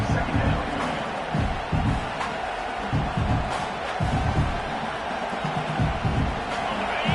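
Steady roar of a football stadium crowd during a game, loud and continuous with swells of cheering, with a commentator talking over it.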